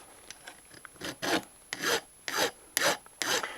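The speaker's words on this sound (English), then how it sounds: "I'm going to do it today with a file" A metal file is drawn in about seven rasping strokes across the beavertail grip safety of a 1911 pistol, each stroke a short, close scraping burst with quiet gaps between.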